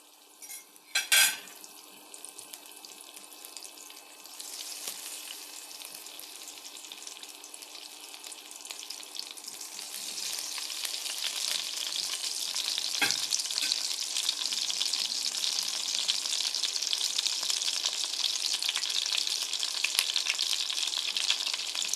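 Oil and butter sizzle in a pan as popcorn is started, a steady hiss that grows brighter and louder over time, with a metallic clink of a utensil near the start.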